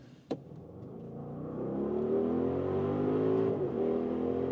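An Audi RS Q8 engine accelerates hard. After a sharp click, the engine note climbs steadily into a loud, sustained, rising roar that holds strong to the end, heard from inside the car.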